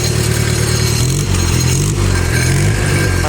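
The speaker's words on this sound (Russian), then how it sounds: "остается только дать послушать вам двигатель." Mitsubishi D2350 FD forklift engine running steadily nearby, a loud, even mechanical drone with light clatter and small swells as the throttle is blipped.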